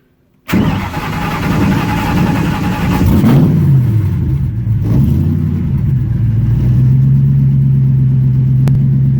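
Factory Five Mk3 car engine starting inside a hardtop, echoing and close: a short crank catches into a loud roar, swells in a quick rev, then settles into a steady, rumbling idle.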